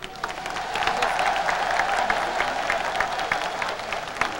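Applause from a crowd at a Haitian patriotic bicentennial commemoration of 1804 independence, a steady dense patter of many hands over the full stretch, with a faint murmur of voices underneath.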